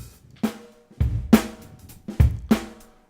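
Drum kit played back in Pro Tools, a sparse pattern of sharp kick and snare hits with cymbal wash, about five strikes in three seconds, clean and dry with no talking.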